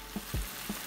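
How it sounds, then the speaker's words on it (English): Tomato paste fries in a pot on the stove for a Haitian legume, a close, steady sizzle broken by a few soft knocks of stirring. "after 5 minutes of frying with my tomato paste"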